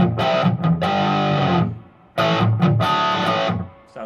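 A Godin Telecaster electric guitar played through a small Spark practice amp rings out in two sustained, distorted chord phrases, loud and close, separated by a short pause.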